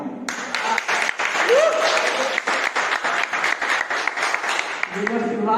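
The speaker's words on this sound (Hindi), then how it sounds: "अगर अच्छी लगे तो ताली बजाना" An audience at a Hindi poetry recital applauds, a run of rapid, fairly loud claps with an ongoing crackling rhythm, as a voice briefly rises over it near the start.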